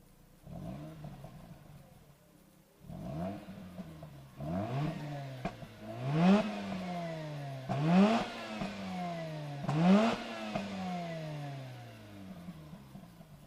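A Mazda RX-8 with a naturally aspirated engine pulls away on a road, its note climbing loudly through several rising revs, each dropping with a gear change before building again.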